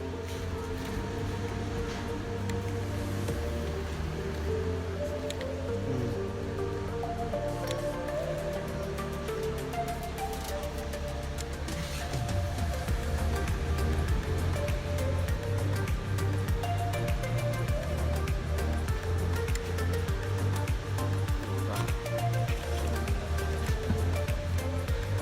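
Sea waves at Abagatanen White Beach in Agno, Pangasinan roll and wash in a continuous surf roar, with a low rumbling bed and swells that grow louder in the second half.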